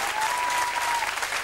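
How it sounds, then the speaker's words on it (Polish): Studio audience at a quiz show giving brief, dense, steady applause, close and full, with a faint tone running through it. "No, te brawa to dla was, panowie."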